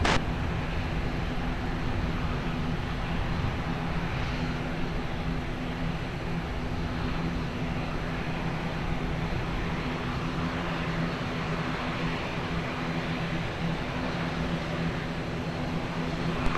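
Aircraft on approach to land on runway 20 at Lisbon Airport, a steady, moderately loud broadband jet rumble with a faint tonal hum, continuous and unbroken, no voices.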